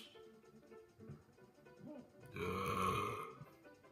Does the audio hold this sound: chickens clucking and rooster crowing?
no